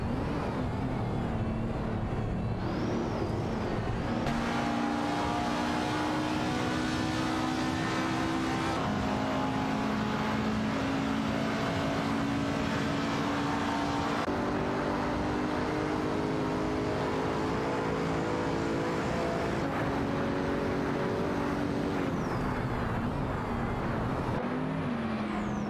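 Bat Mono and Ariel Atom race cars roaring around a track, a steady loud engine drone with rising and falling pitch as the cars accelerate and shift, with no voices.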